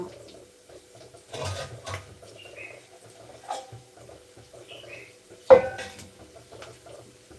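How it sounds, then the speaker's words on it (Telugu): Vermicelli (semiya) upma frying in a little oil in a pan, with scattered metallic scrapes and clinks from stirring, plus a sharper clatter near the end, all fairly quiet against a low background hum. "సేమియా ఉప్మా మొత్తం ఇలా కాస్త ఆయిల్ వేసుకొని వేయించుకోవాలి"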